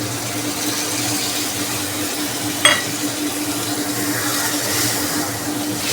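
Mutton paste fries in a pan for a mutton chana curry, a loud steady sizzle with scraping stirring throughout and one sharp knock of the spoon partway through.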